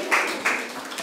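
Applause for a quiz contestant on a televised question-and-answer show, heard as a short burst of a few scattered claps, fairly faint.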